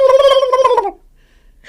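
A person imitates a turkey gobble with a rapid, throaty, warbling burst of about a second, loud and close, followed by near silence.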